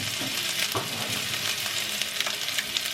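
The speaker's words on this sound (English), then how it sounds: "I'm just going to throw in all my seasoning right now. Go ahead and saute." Seasonings sauté in a little oil in a preheated pot for Jamaican cabbage and salt fish, giving a steady, close, even sizzle with faint stirring clicks underneath and no voices.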